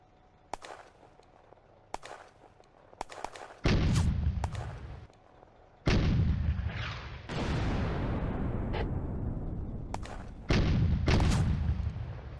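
Gunfire and artillery fire in a WWII war game set in May 1940: isolated sharp shots, then several loud booming blasts with long rumbling decays, alternating with quieter gaps.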